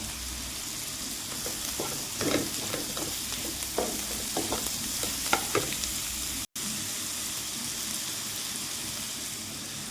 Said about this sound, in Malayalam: ഞാൻ ഒരു വലിപ്പമുള്ള ക്യാരറ്റ് ചെറുതായിട്ട് അരിഞ്ഞിട്ടുണ്ട്, ഇട്ട് കൊടുക്കാം